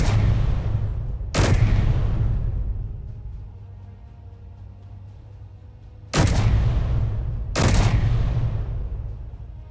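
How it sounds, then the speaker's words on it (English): Heavy guns boom in the space video game Space Engineers, with four loud blasts in two spaced pairs, each followed by a long rumbling decay and no talk over them. "I want to get the appearance of larger and larger guns firing"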